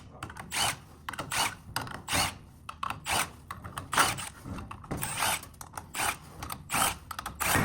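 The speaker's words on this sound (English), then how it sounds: "Back the bolts out more." Ratchet wrench backing out clutch bolts on a CFMOTO U10 UTV, a steady series of close, moderately loud clicking ratchet strokes repeating in bursts with no talking.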